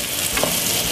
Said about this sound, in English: I'm frying up the garlic, spring onion, and white onion